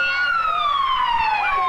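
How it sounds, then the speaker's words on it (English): Fire engine sirens wailing in the distance beside a burning building, a sustained descending tone with faint traffic rumble underneath and a hint of voices in the background. "can hear the fire sirens in the distance"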